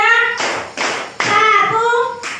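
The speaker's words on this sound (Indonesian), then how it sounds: "Tepuk satu, tepuk dua, tepuk tiga" A class of children claps in counted bursts, three separate rounds of group clapping with short pauses between, mixed with voices chanting along.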